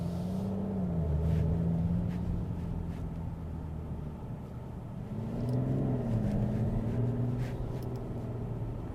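A Mercedes S 450 diesel S-Class cruising on the Autobahn, a smooth low cabin hum with a steady engine drone that rises and falls slightly, with road and wind noise constant throughout and no voices.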